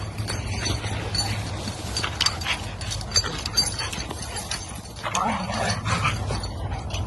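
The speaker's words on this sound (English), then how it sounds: "my dogs are sprinting around now" Dogs play and sprint around outdoors, with scuffling paws, thumps and rustling over a constant low background rumble.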